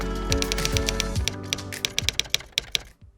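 Typewriter keys striking in a quick uneven run, with a few sharper isolated clacks toward the end, used as a typing sound effect for animated text; loud and close, with no voices.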